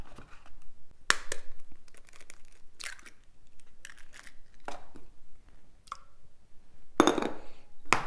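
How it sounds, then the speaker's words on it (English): Eggs cracked against a bowl edge for chocolate zucchini cake batter, giving several short sharp cracks and crunches of shell spaced irregularly, close and fairly clear in a quiet kitchen. "Don't forget to crack those eggs outside of your bowl."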